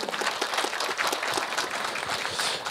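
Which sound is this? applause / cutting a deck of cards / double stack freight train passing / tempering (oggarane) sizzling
applause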